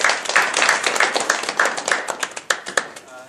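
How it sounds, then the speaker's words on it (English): Applause from a small group, individual claps distinct and uneven, tapering off toward the end. "And so we should applaud all of you as well."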